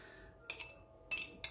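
Three light clinks of small metal spoons against glass, quick and close, in an otherwise quiet setting.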